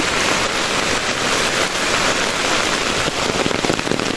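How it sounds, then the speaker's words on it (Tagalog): Heavy typhoon rain (Typhoon Enteng) pours down in a loud, continuous roar of drops, close and unbroken, with some heavier splattering toward the end. "Kasi umuulan."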